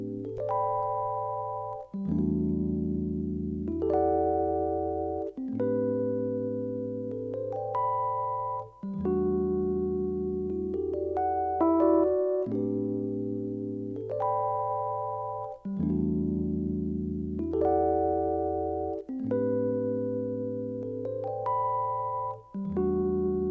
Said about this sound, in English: After that I added a E piano from Lounge Lizard,